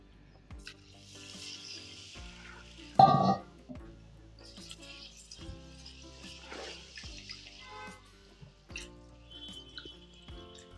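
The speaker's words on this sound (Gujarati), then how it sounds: "આપણે આ મગ અને ચોખા મિક્સ કરી અને ત્રણથી ચાર પાણીએ ધોઈ નાખશું" Water sloshes and trickles in a bowl as mung beans and rice are swished and rinsed by hand, with intermittent splashes and drips close up.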